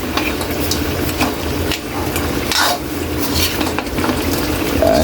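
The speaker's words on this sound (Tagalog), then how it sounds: "Para mamaya kaili, haluin na natin yan." Butter shrimp with green chili is stirred in a sizzling pan, a loud continuous fry with repeated scraping and clinking of a utensil against the pan.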